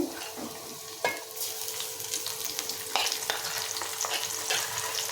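Ginger garlic paste frying in a pot for chicken mandi, a steady close sizzle with a few sharp scrape and stir clicks of a spoon, no talking.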